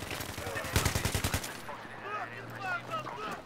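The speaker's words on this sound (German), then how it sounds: "Wo hat es da gerade auf mich geschossen?" Rapid automatic gunfire from Battlefield 3 rattles in a tight burst of about a dozen loud shots during the first second and a half, then gives way to quieter game ambience with a steady low hum and scattered chirping tones.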